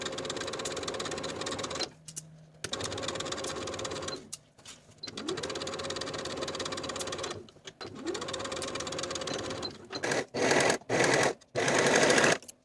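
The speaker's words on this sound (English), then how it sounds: "Then I'll sew these seams with a 3/8 inch seam allowance and finish the raw edges." A sewing machine stitches raglan sleeve seams on a top at a 3/8 inch seam allowance, running in several steady bursts of whirring and rattling separated by short pauses, with a final run of quick stop-start stitching.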